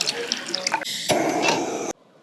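Water pours from a Black Dog water container at a nature campsite, a close, bright gushing stream with splashy drips that stops abruptly near the end.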